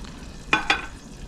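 Queso with hot green chilies stirred in a pan, heard as two short scraping swishes close together, faint and brief over a quiet background.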